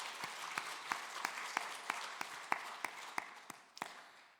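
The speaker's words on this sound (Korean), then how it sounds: "하나님 앞에 우리 감사의 박수 한번 올려드릴까요?" A church congregation claps during a Sunday worship service, faint and distant, with sharp individual claps standing out in a loose, uneven rhythm over a soft wash of clapping.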